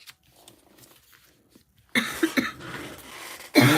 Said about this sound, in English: Apparently, we're coughing today.